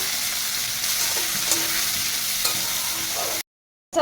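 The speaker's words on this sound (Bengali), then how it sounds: "পেঁয়াজ কুচিগুলো দিয়ে ভাজবো।" Chopped onions sizzle in hot garlic-tempered oil in a wok for a long bean dish: a steady, close, dense frying hiss with faint stirring, cutting off abruptly into silence near the end.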